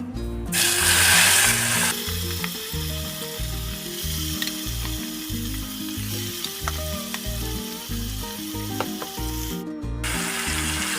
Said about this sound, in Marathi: तेल आपलं गरम झालेलं आहे याच्यामध्ये मुरवून घेतलेलं मटण टाकून घेऊया